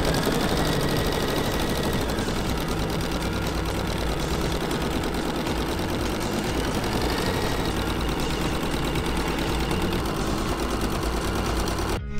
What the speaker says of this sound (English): put the hoop back on the machine and then sew the next stitch sequence to stitch those lines